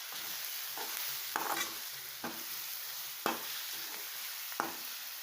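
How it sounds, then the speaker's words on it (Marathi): Ground green chilli and garlic paste stirred into frying onions for a spicy pithla, a low steady sizzle broken by several distinct spoon scrapes and knocks against the pan, close and without talk. "आता हे चांगलं मिक्स करून घ्यायचं आहे आपल्याला"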